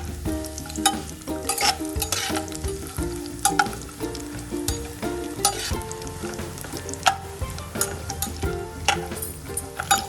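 Shallow frying for a sweet lapshi dish, with continuous sizzling in hot oil and repeated stirring and scraping of the pan until golden brown, close and clear, no voices.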